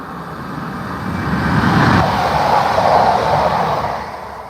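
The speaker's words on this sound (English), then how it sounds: "Train." A train rumbles past at Acton Bridge, a broad rushing roar that swells over the first two seconds, holds steady, then eases off slightly toward the end with no voices.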